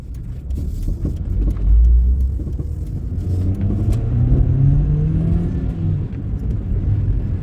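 A Dodge Neon-type car engine rumbles steadily up close, its pitch rising and falling as it revs, with no voices present.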